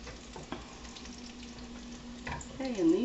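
Meatballs for stroganoff frying in a pan, a soft steady sizzle with a few light clinks and stirring noises, heard alone.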